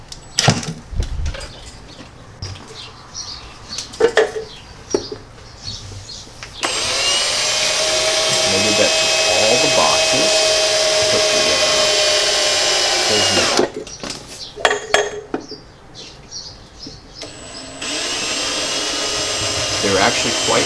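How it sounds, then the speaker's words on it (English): A power drill drives screws into a wall-mounted meter box in a garage, with loud sustained whirring bursts of several seconds separated by clattering handling noises and short pauses. "He just drills in the screws."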